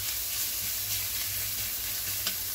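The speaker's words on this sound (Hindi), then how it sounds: "तो अभी भाजी को अच्छे से मिक्स कर लेता हूँ।" Onion and capsicum frying in a pan while being stirred, a steady close sizzle with soft scraping movements running throughout, no voices.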